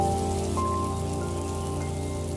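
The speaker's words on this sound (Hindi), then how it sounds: "घोंसले हिलने लगे, शाखाएं टूटने लगी और बारिश तेज हो गई।" Steady, dense rain pouring down without pause, a broad continuous hiss with a faint tonal hum underneath.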